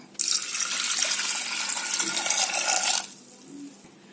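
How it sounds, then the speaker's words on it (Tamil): Water gushes steadily into a pot of lentils for about three seconds, loud and close, then stops, leaving a quiet room with a faint clink. "பருப்பு மூழ்கிற அளவுக்கு மட்டும் தண்ணி சேர்த்துக்கலாம்."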